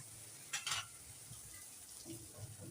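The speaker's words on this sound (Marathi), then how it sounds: "आत्ता मी एवढा कांदा आलं लसूण तळून घेते" Chopped onion, ginger and garlic fry in a pan for a spicy ivy gourd mince, a soft low sizzle with a couple of quick utensil scrapes and clinks early on, quiet and close with no voices.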